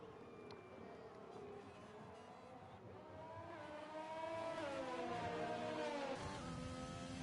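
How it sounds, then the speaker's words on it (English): Renault race car engine in the F1 2020 racing game on a start-finish straight, a high whining note climbing steadily in pitch as the car accelerates, under a commentator's voice. "Rear wing open on the Renault. Down the start finish straight he goes."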